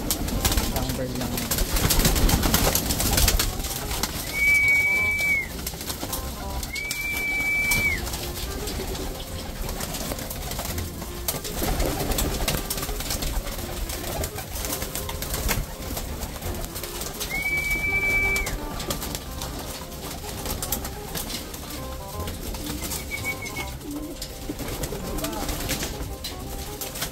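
Racing pigeons cooing in a loft, with a few short call bursts over ongoing background noise and faint voices.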